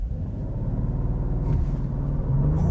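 A 2022 Mercedes-Benz E 450 All-Terrain wagon launches hard from a brake-torque start, its engine rising in a steady loud rumble as the 9-speed automatic begins to pull.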